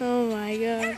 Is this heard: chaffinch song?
no